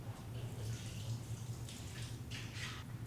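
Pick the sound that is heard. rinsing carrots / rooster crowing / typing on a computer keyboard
rinsing carrots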